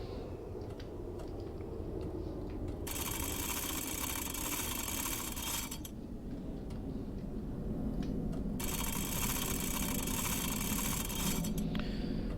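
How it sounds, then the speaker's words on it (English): A submarine's electric engine in the naval game Wolfpack runs with a low, steady hum, while two long bursts of hissing water-like noise come and go over it; no one speaks. "So we'll go to electric engine."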